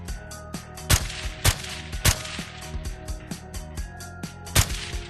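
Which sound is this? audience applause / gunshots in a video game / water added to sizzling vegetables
gunshots in a video game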